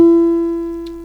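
A single sample on the first track of an Elektron Analog Rytm rings out as a steady harmonic tone that slowly decays, played alone and close with no voice.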